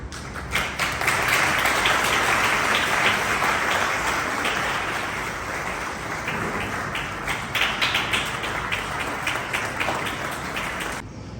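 Church congregation applauding to welcome a couple's parents at a family celebration, sustained crowd clapping that starts strong, eases slightly mid-way and continues steadily before stopping abruptly.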